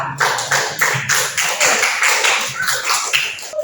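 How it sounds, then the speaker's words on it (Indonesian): Students in a classroom applaud a group after a presentation, a dense, steady patter of many hands clapping at close range that continues throughout without talk. "Kita berikan aplaus untuk kelompok 2."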